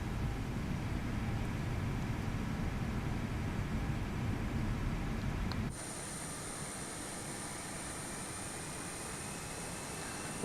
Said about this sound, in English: we'll get engine number 2 started up